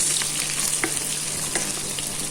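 Chicken wings sizzle and crackle steadily in hot oil with garlic, a close, continuous frying hiss with scattered small pops and no talking.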